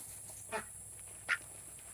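Two short, faint duck quacks sound about a second apart on a quiet homestead while the ducks eat watermelon rind, with a steady high background hiss.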